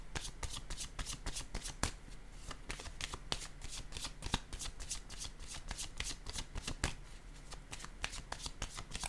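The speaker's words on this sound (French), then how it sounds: "Je vais déposer une autre carte sur elle." Tarot-style cards being shuffled and laid down during a reading, a steady run of crisp riffling and slapping card sounds close up, with no voices.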